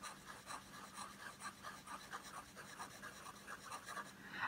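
A Sailor fountain pen nib scratches across paper in quiet, rhythmic strokes, a faint pencil-like rasp repeating several times per second with no voices over it.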